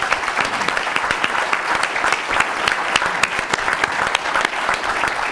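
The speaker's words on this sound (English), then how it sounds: "A big round of applause for you." An audience applauds at the end of a panel discussion, dense continuous clapping from many hands filling the room at steady volume.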